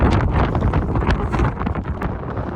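Strong wind blows at a slate mine, buffeting the microphone with loud, continuous low roaring gusts that fill the clip.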